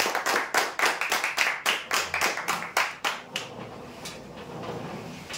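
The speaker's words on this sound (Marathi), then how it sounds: "जोरदार टाळ्या होत्या।" A crowd claps loudly at a prize draw, rhythmic bursts of applause close by, fading and thinning toward the end.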